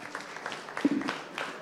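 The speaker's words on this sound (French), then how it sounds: "On vous applaudit." Audience applause at a startup pitch event, a brief spell of scattered clapping at moderate distance with a few sharper claps standing out near the end.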